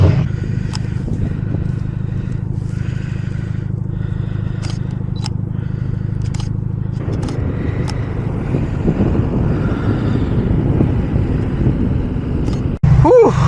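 A rear-wheel-drive coupe spins its wheels in deep snow during a Canadian blizzard, a steady droning engine whine with grinding, scraping tire noise and gusting wind, ending in a sharp clunk.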